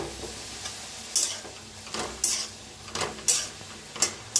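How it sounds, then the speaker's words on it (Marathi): Radish pods roast in oil in a pan, a soft steady sizzle punctuated by several distinct, sharp clinks and scrapes of a utensil against the pan at irregular intervals, close and clear. "आता मुळ्याच्या शेंगात ना तेल ओतून भाजून घेऊया"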